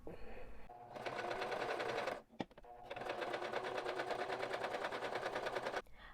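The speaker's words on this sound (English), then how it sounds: "Now all we have to do is double fold the hem, and we're all set on the top" Sewing machine stitching the double-folded hem of a shirred top, running steadily in two long bursts with a brief pause between, close and loud, no talking.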